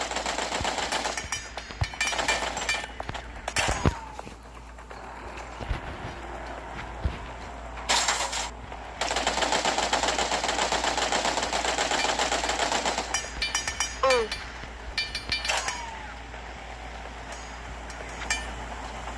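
Rapid gunfire from the mobile survival game LifeAfter, bursts of shots striking the player during a camp event, layered over continuous game sound effects and music, with repeated sharp crackling impacts across the clip.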